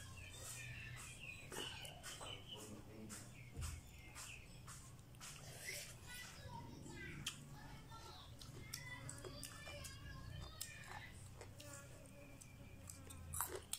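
Close, quiet chewing and crunching while eating som tam papaya salad, with repeated wet bites and clicks, soft background sounds and faint birds.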